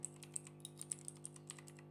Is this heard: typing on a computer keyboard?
yes